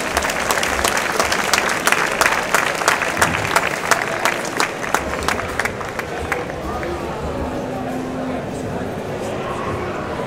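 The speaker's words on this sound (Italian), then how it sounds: "accogliamo ancora con un bellissimo applauso l'Associazione Culturale Musicale e Dilettantistica Amici della Musica di Nicolosi" An audience applauds to welcome a cultural and amateur music association from Nicolosi, loud, dense clapping with some crowd voices, thinning toward the end as a lone sustained tone rises.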